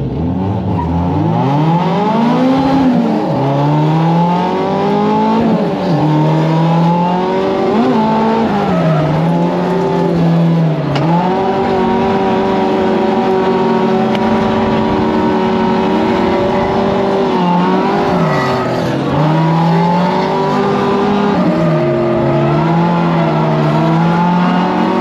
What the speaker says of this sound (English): we're gonna do a three-car tandem.